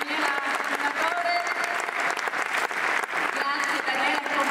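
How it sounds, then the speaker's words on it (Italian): Audience applause at an Italian sport film festival ceremony for Daniela Tornatore, sustained dense clapping filling the room with a few voices beneath. "applauso, applauso per Daniela, Tornatore"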